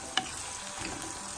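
Chopped onions frying in a pan with salt, a soft steady sizzle and one brief sharp clink near the start, with no voices.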